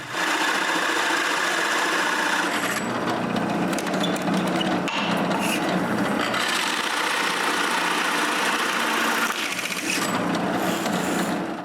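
A drill bores a large hole through a square block of wood, a continuous loud motor whine with shifting grinding tones as the bit cuts, running throughout without talk.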